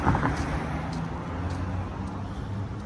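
Steady road traffic rumbles past a pedestrian waiting to cross State Street and Teaneck Road, a continuous low roar of passing vehicles with faint distant sounds above it, no talking.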